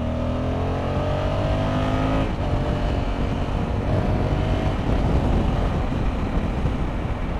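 A 2020 Honda Africa Twin CRF1100 motorcycle rides along a dual carriageway, its engine droning steadily and loudly under continuous wind and road roar, with a brief pitch change partway through and no talk.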